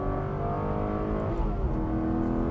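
Aston Martin Vanquish engine running steadily loud and close, with a brief dip and rise in pitch near the middle as a gear change goes through, the drone continuous throughout.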